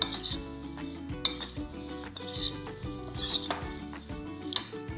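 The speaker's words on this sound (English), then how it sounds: "we're gonna stir all of this together" A spoon stirs granola ingredients together in a bowl, with repeated clinks and scrapes against the dish in an irregular rhythm, close and clear, over faint kitchen background sound.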